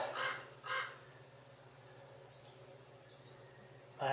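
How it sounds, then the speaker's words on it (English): Two short, harsh bird calls close together near the start, a crow-like caw, with another call starting at the very end over a quiet steady hum in a workshop. "have to take care of a bird"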